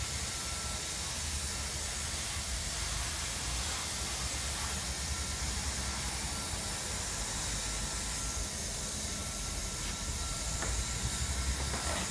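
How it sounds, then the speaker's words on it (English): Hot-air welding of Resitrix roofing membrane at an external corner, a steady close hiss of the welding blower that runs unbroken and fairly loud throughout. "And then we're going to weld it up."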